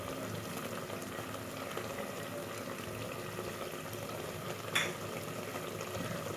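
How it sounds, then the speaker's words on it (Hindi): Garlic goes into a pan of hot oil while making egg and potato curry, giving a quiet, steady sizzle and bubbling with one brief clink or scrape near the end, close and soft, no voices. "अब मैं इसमें गार्लिक शामिल करूँगी।"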